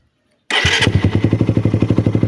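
A motorcycle engine fires up abruptly and settles into a loud, rhythmic thumping idle with regular pulses, close by and no voices.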